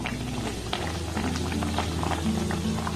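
Pitha dough frying in hot oil, a continuous, close bubbling sizzle with fine crackles, steady and unbroken, with no voices.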